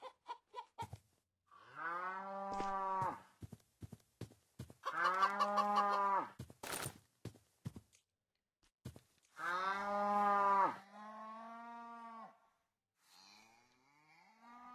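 Cow mooing in a video game, several long drawn-out moos alternating with short sharp clucking and clicking game sounds, clear and close with quiet gaps between.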